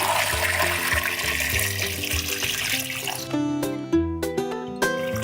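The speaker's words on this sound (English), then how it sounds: "add enough water to cover the potatoes" Water rushes from a tap over potatoes in an Instant Pot, a loud continuous pour that breaks into sloshing and dripping splashes as the flow stops.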